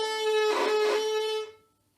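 Violin note bowed with heavy pressure, a strained, gritty, buzzing sustained tone held loud for about a second and a half before cutting off, played alone.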